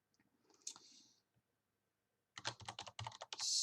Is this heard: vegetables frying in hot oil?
no